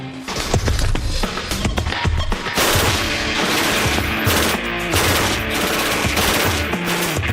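A Mark 48 machine gun fires long sustained bursts of rapid, loud shots with heavy booming reports that blur into continuous gunfire, with no talk.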